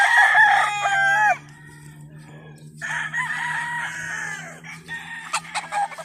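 Chickens and roosters at a game farm in Canlaon, Negros Oriental, crowing loudly in two long nearby calls separated by a short pause, with some clucking and a steady low hum underneath.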